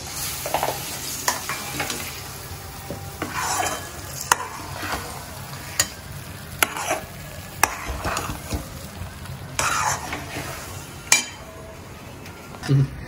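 A sweet lentil filling for paruppu poli is stirred in ghee in a pan over low heat. Steady sizzling runs under repeated scraping strokes and periodic sharp spoon knocks on the pan rim, all close up.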